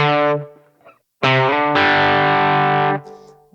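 A distorted electric guitar plays a note that cuts off, then a new note sounds and glides up to a higher sustained pitch.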